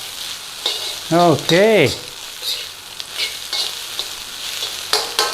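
Pineapple shrimp fried rice with curry powder frying in a hot pan over a raised flame, a steady close sizzle with brief scraping stirs, a short spoken word near the start.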